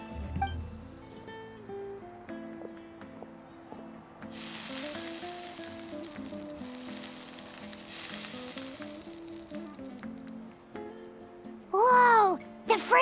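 Mushrooms searing in a hot pan in Genshin Impact, a steady sizzle running under soft game music, with a brief louder whoosh near the end.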